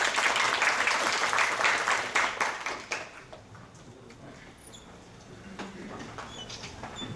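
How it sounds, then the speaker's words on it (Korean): Seminar audience applause in a hall, with dense clapping for about two and a half seconds, then thinning into scattered claps that trail off to faint room noise. "큰 박수 부탁드립니다."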